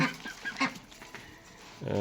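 Pekin ducks, a meat breed kept on a farm, give a few short nasal quacks close by, followed by a louder call at the very end.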